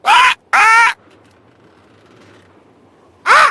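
A cartoon bird squawks in the Deponia point-and-click video game: two loud harsh caws close together, a quiet pause, then a third squawk at the end.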